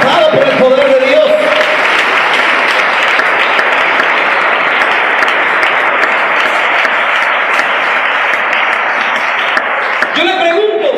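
A church congregation breaks into loud, sustained applause that runs for about nine seconds, with a preacher's voice speaking before and after it.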